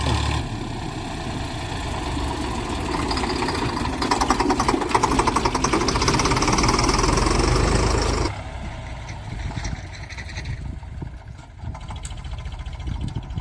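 A tractor engine runs nearby during the fertilizer season, producing a steady, loud mid-low drone that ends abruptly partway through, leaving a quieter engine rumble.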